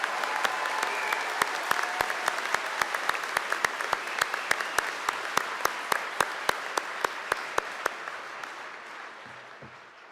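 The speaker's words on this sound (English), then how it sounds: "Please join me in a round of applause for these wonderful humans." Sustained applause from a large graduation ceremony audience, Henry Wise Wood class of 2025, steady dense clapping with sharp individual claps standing out, fading toward the end.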